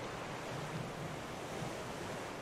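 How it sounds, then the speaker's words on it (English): Giant, turbulent ocean waves in the survival game Raft, a steady roaring wash of surf with a windy hiss, loud and unbroken across the whole stretch, no voices. "What are these giant waves doing? Why is it so turbulent?"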